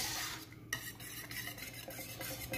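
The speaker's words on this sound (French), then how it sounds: "là, tu remets un petit coup de fouet" A whisk works a panna cotta mixture in a stainless steel bowl, giving close, busy metallic scraping and stirring that runs continuously for a few seconds with no voices.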